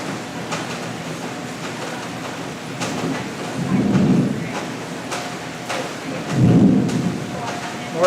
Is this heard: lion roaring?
no